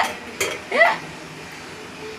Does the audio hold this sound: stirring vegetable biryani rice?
yes